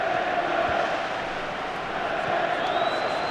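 Stadium crowd in FIFA 13 during a UEFA Champions League match between Inter and Liverpool on PS3, a steady broad roar of cheering that holds at an even level throughout, with a faint rising whistle near the end.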